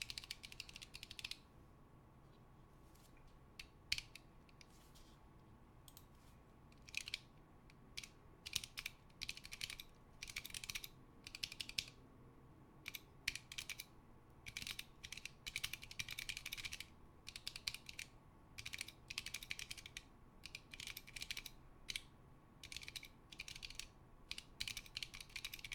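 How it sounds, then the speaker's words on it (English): Choc low-profile keyboard switches on Planck Light and Dilly boards pressed repeatedly, several springs crunchy, giving bursts of close, crisp clicking and scratchy clacks in irregular runs over about 25 seconds with short pauses, no talking. "Some of the springs are really crunchy."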